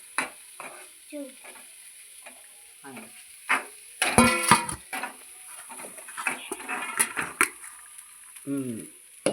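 Eggs and vegetables frying in a pan for vegetable fried rice, giving a steady soft sizzle with a burst of stirring and scraping midway, close and moderately quiet, with no talking over it.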